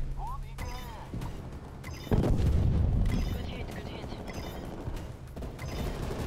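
Artillery strike in Call of Duty Cold War, a heavy rumbling barrage of booms that starts suddenly and rolls on, with scattered gunfire and a voice talking over it.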